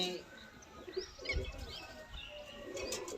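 Pigeons in a rooftop loft coo softly with some chirps and a brief flutter of wings, amid faint outdoor background noise.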